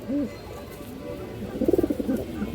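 Silver pigeons of an old line coo nearby, a short call at the start followed by a louder run of throaty, pulsing coos.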